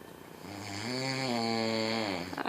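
Loud human snoring forms a single long, resonant, rattling breath that builds, holds steady, then fades with a few small sputters at the end, heard close and on its own.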